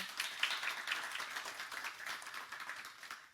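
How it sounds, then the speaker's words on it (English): A small audience gives a round of applause after a talk, light and steady clapping with distinct individual claps, fairly quiet and fading slightly over a few seconds. "just give yourself a round of applause"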